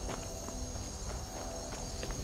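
A horse's hooves clip-clop in the Skyrim video game, a faint, regular walking beat under a constant bed of game ambience.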